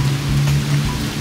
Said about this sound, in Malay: Wah, gerimis.